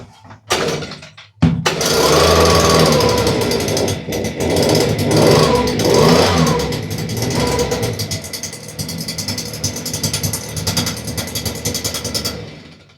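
A small STIHL engine on full choke sputters to life after a quick pull, then runs loudly with a rough, buzzing idle close by for several seconds.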